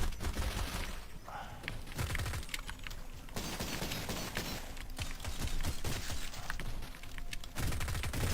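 Rapid bursts of gunfire in the video game Cultic crackle in dense volleys, broken by short pauses, with a fusillade of overlapping shots and mechanical clicks throughout.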